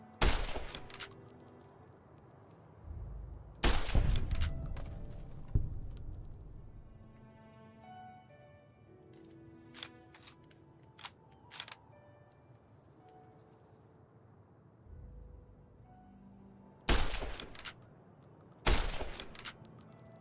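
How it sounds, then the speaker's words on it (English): Gunfire in Fallout: New Vegas with the DUST mod, bursts of rapid shots in separate clusters with quiet gaps between them, loud and close. "I'm firing too fast"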